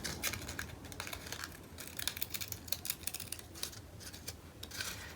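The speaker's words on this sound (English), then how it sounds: "I'm just going to trim it up here at the top and bottom just a little bit" Scissors trimming the top and bottom edges of a crepe paper pumpkin, a run of faint, fine snips and paper rustles close by, no voices.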